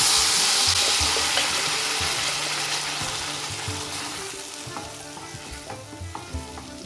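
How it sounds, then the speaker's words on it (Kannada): Thick poppy seed and rice payasam mixture bubbling and sizzling in a pan while a spoon stirs and scrapes, soft clicks and knocks recurring, fading slightly toward the end. "ಈ ಥರ ನೀಟಾಗಿ ತಿರುತ್ತಾ ಇರಿ"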